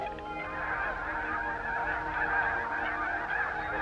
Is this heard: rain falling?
no